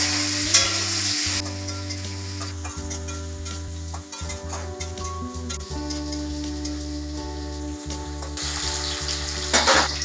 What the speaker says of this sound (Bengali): এরপর দিয়ে দেব কেটে রাখা আলুগুলোকে ভালোভাবে ফ্রাই করে নেব।